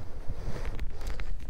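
Wind buffets the microphone while riding a motorcycle, a gusty low rumble with uneven pulses of rushing air.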